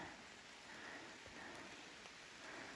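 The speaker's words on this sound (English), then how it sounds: "We got ourselves some sunshine rain." Steady sunshine rain falling on the Appalachian Trail, a soft continuous hiss of drops on surfaces, quiet and even throughout.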